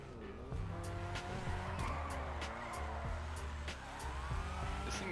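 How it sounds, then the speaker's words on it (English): Tires squeal in repeated bursts as a low-grip drift car slides through corners in GTA 5, with the engine revving and bouncing between gears underneath, close and fairly loud, sharp clicks scattered over the top. "That was a good drift"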